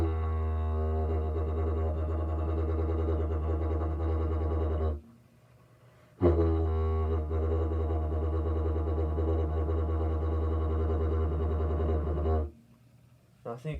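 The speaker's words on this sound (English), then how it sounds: "So if all is done correctly with the helicopter effect, it should sound like this." A didgeridoo sounds a sustained low drone with a fluttering, pulsing helicopter effect. It plays in two long loud phrases separated by a short breath pause, with buzzing overtones above the deep fundamental.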